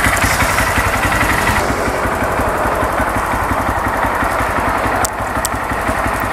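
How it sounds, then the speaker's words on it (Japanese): A fuel-injected Honda Grom 125 motorcycle idles close by with a steady, rapid single-cylinder putter that stays even for about six seconds, with a couple of faint clicks near the end and no one talking. "こちらのグロムね、キャブレターじゃなくてインジェクター仕様になってまして"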